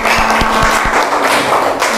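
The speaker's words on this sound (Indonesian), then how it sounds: "Ya, tepuk tangan untuk kelompok 1." Primary school pupils in a classroom at SD Sidorejo clap for a student group after its presentation, producing a dense, loud wash of close clapping over a steady hum.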